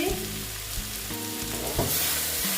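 Moong dal frying in a pan for a vegetarian moong kalia, a steady close sizzle broken by a few scraping stirs of a spatula, with no talk.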